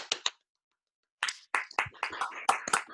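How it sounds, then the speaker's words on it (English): Scattered clapping from a few people unmuted on a virtual gala call, a short burst, a pause of near silence, then several overlapping bursts of close, uneven hand claps. "This is where you can unmute yourself and clap."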